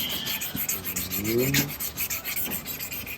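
Sandpaper rubbing back and forth over an old, worn car headlight lens on an Atrai Wagon during wet-sanding at 1000 grit, a soft continuous rasping scrub close up, with a faint tonal squeak midway.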